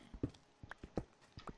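A Minecraft donkey's hooves clip-clop in a few irregular, quiet, hollow knocks, close by and with no talk over them.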